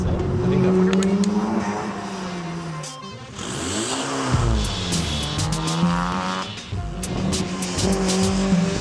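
A car in an autocross time trial weaving through pylons at speed, engine rising and falling as it accelerates and brakes, with tires squealing through the turns, heard from nearby.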